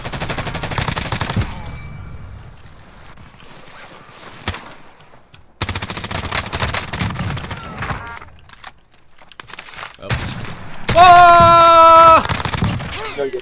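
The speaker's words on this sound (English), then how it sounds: "I hear gunshots, I just can't tell where the fuck they're coming from" Call of Duty: Warzone gunfire crackles in rapid bursts and scattered shots, loud and close, with a short electronic tone near the end.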